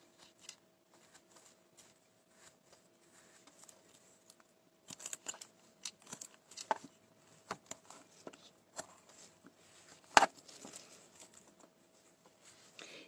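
Knife cutting into wood while carving a zebra figure, quiet scattered scraping and clicking strokes in irregular bursts, with one sharper snap toward the end.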